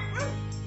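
Small dog giving a short, close whimpering yip, alone and brief.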